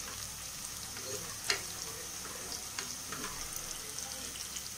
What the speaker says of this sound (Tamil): பாருங்க, வெங்காயம் நல்லா வதங்கிருச்சு.